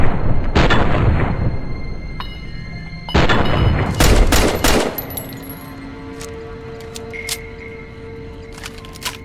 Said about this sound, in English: opened fire with my pistol